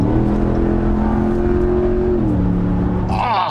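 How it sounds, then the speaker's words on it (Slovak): RAM 1500 pickup with an optional aftermarket exhaust under kickdown on a highway: a loud, deep engine drone climbing in pitch, then a gear shift drops the tone, steady and close with road noise. "teraz počúvajte, ako znie, keď mu trošku dám kickdown na diaľnici"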